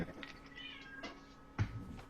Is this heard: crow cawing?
no